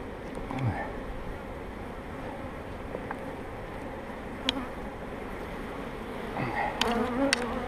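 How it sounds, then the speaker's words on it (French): Many honeybees buzzing close by at an open hive in spring, a dense, continuous drone, with individual insects flying past the microphone now and then. "on a des abeilles qui sont extrêmement calmes"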